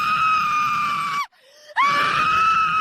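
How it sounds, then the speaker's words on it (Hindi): A girl screams in a dark room in a Hindi horror audio story, two long shrill shrieks broken by a brief gasping pause, loud and close with nothing else around them. "मिनी चीखती चिल्लाती रही,"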